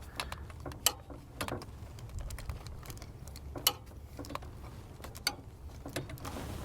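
A torque wrench tightens a spark plug on a Toyota Highlander, giving a run of quick, light ratcheting clicks with a few sharper snaps over a low background hum.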